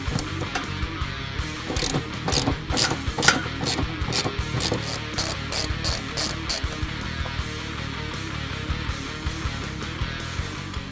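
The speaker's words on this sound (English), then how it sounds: "Now we're going to move the 2 nuts for the rear support." Ratchet removing nuts from the rear shifter support of a 2005-2010 Mustang GT. Quick bursts of close, sharp clicking repeat in a steady rhythm, then briefer runs of clicks follow.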